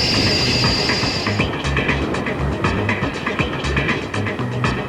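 Passenger train running along rails on a coastal line toward an airport terminal in Hong Kong, a steady close rumble with rhythmic clickety-clack of wheels over joints throughout, no voices.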